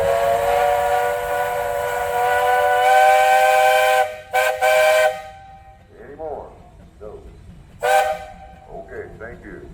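Steam traction engine whistle at a threshers festival, sounding a long sustained harmonic blast, then two short toots and a later brief blast, loud and close, with people talking between the blows.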